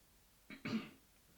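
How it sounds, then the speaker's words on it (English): Two quick, soft coughs close together in an otherwise quiet room, the second slightly louder and longer. "Sorry, I need to cough."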